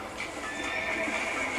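A horse whinnies in Red Dead Redemption, a single strained neigh held across the short moment with hoofbeats underneath, close and steady, no talking.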